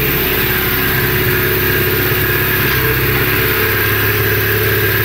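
A homemade all-terrain vehicle's Oka engine runs at high revs, a loud, steady, rough mechanical drone that stays close and continuous throughout, with no talk over it.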